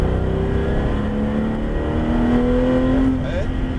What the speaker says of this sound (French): Et là, tu accélères.